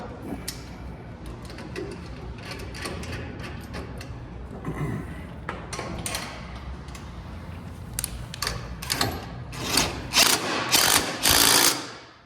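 A hand ratchet tightens a nylon nut while a light bar is mounted, giving rapid clicking runs close by that grow louder and sharper toward the end.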